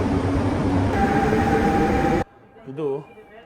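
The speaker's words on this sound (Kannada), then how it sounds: "double decker metro" A double-decker metro train on the line to Saint-Germain-en-Laye roars loudly and steadily close by, then the rumble cuts off abruptly into near quiet where a brief voice is heard.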